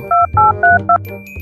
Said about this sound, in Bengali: আমার সিআইডি রে ফোন দিতে হইব।